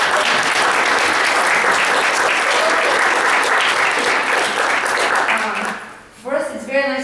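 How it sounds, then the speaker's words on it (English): Conference audience gives loud, dense applause that holds steady for several seconds, then fades out as a voice begins speaking. "can you have a hand of applause for her parents who joined us?"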